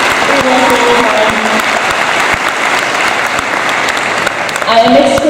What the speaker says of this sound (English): I would like everyone to clap for my few graduates and I, because we deserve it